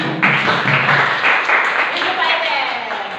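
Round of applause for Pak Acep at the close of a school activity, a steady wash of many hands clapping together for a few seconds, with voices mixed in beneath.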